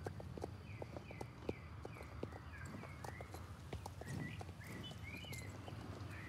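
A mare and foals in Star Stable Online walk with steady clip-clopping hooves, joined by faint bird calls against a quiet outdoor backdrop.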